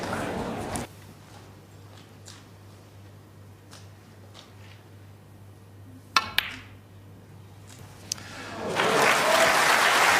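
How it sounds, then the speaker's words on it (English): Snooker audience applause at the 2013 World Snooker Championship: a short burst of clapping cuts off, leaving a quiet hall with a low hum and a few sharp clicks, before the applause swells again toward the end. "A round of applause from Ronnie Jr."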